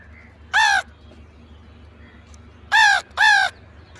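Three harsh crow caws on a railway platform, made by a person's voice imitating crows: one short call, a pause, then two quick calls close together, loud and clear over a low steady background hum.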